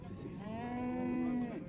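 A single cow lows at a 1971 Irish country fair: one steady, drawn-out moo, fairly faint against a low background murmur of the crowd.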